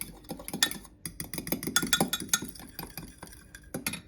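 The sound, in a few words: stirring pepper into a dish with a spoon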